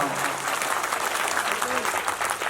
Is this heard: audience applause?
yes